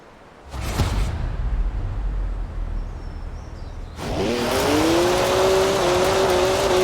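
A BMW 1M in Forza Horizon 4 roars into a loud, sustained rev after a brief earlier engine burst, the pitch climbing and holding steady at close range with no talk over it.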